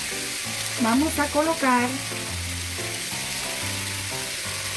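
Chicken breast cooking in a pan over medium heat gives a steady sizzle throughout, while someone speaks briefly over it early on.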